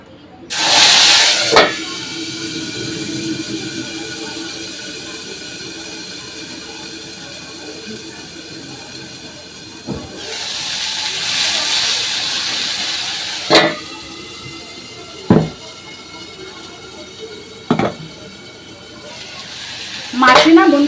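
Spices hit hot oil in a pan after fish has been fried, giving loud bursts of hissing sizzle that swell and fade, separated by sharp clatters and knocks of utensils against the pan.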